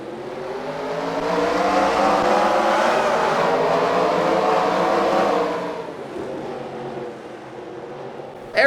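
Several race car engines starting in a racing video game set under the lights in Minnesota: a loud layered roar of revving motors swelling in the first seconds, holding, then easing to a lower idle rumble.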